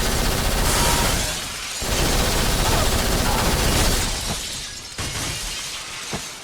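Bursts of rapid P90 submachine gun fire in the shooter game Black, loud and sustained across most of the stretch, with shattering glass and debris crackling through the volleys and brief gaps near the end.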